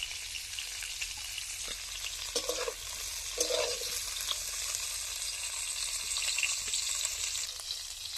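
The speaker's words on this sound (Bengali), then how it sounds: "এখানে ভাজা হচ্ছে গাজর আর ফুলকপি" Carrots and cauliflower fry in a pan for a winter vegetable moong dal khichdi, giving a continuous close sizzle broken by a few soft stirring scrapes. There is no talking.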